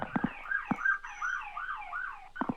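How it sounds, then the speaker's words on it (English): A warbling emergency siren passes outside a door, its wavering wail rising and falling at a moderate distance, broken by a few brief thumps, with no speech. "that's a siren going by my door."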